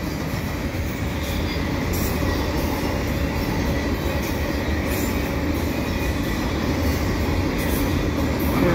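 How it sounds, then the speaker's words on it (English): A very long CN double-stack freight train rolls steadily across the Dorion Bridge over Lac St Louis, a continuous loud rumble of wheels and cars with faint rhythmic clicks, sustained throughout with no talking. "It's a very long train."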